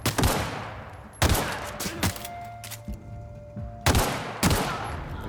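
Loud bursts of gunfire in The Outer Worlds on PS4, several separate volleys of sharp shots spaced a second or so apart, with quieter game hum between them.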